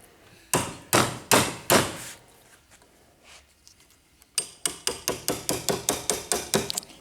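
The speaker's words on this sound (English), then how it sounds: "Now remember, tap, tap, tap with the hammer." A hammer taps a chisel into an oil stone in sharp, regular strikes: a few spaced blows, a pause, then a quicker run of about a dozen close, crisp hits.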